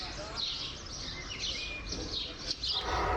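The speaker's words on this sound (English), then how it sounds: "Another birds." Several birds chirp in short bursts over steady outdoor background noise, the calls moderately near and repeating irregularly.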